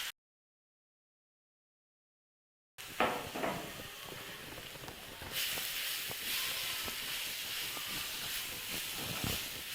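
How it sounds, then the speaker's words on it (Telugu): After a few seconds of silence, grated carrot for carrot halwa hits hot ghee and deep-fries with a steady, close sizzling hiss that continues evenly, with occasional faint pops and no one speaking. "దీన్ని బాగా డీప్ ఫ్రై చేయాలి."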